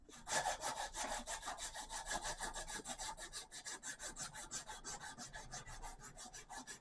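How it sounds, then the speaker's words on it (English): Narrow 80 grit sandpaper strips are pulled back and forth shoe-shine style over wooden knife scales, giving a close, continuous rasping with an even stroke rhythm of roughly three or four passes per second. "We do that with strips of 3/4 inch wide 80 grit sandpaper, and we use it like we're shoe shining."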